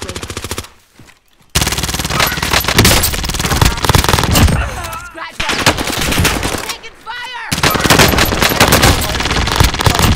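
Loud automatic gunfire from the Warzone Caldera video game comes in rapid bursts with short silent gaps between volleys, close and dominant throughout.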